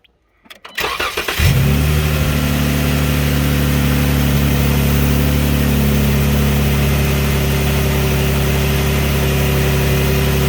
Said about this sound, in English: go ahead and start it up and just let it run